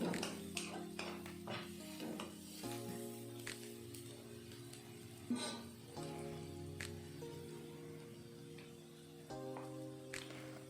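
Pieces of bitter gourd stirred in a pan with turmeric for a Telugu kakarakaya fry, soft scraping and light clatter of a spoon against the pan over a faint sizzle, with a few sharper knocks.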